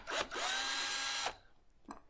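A cordless drill backs Phillips screws out of a variable DC power supply case: one loud, sustained whirring run of about a second, then a short second burst, close up and without talk.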